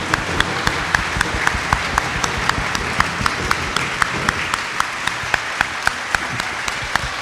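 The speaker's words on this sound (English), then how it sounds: "And with a huge round of applause," Applause at a secondary school convocation ceremony, a loud sustained crowd clapping with a few distinct sharp claps ringing out in an even rhythm over the dense wash.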